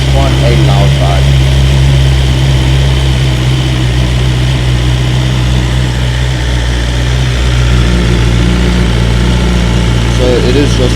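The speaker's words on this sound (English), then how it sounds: "it's quite a loud bike" A 2023 BMW S1000XR motorcycle fitted with a slip-on exhaust idles loudly and steadily nearby, a deep constant rumble with a person talking over it.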